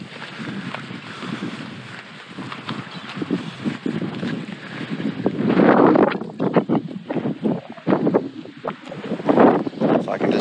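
Wind gusting across an exposed mountain backpacking trail in the Dolly Sods Wilderness, a steady broadband roar buffeting the microphone that swells louder in mid-clip and again near the end, with no talk.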